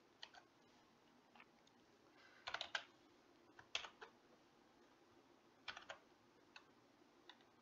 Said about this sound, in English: Let me try typing the link.